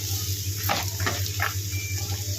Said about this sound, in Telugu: ఇట్లా నీళ్ళు పిండి వేసి